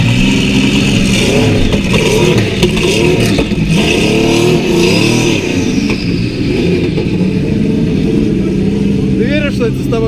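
A turbocharged car engine revs hard at the Goodwood Festival of Speed, loud and close, with rising and falling engine pitch over continuous crowd noise and people talking nearby throughout.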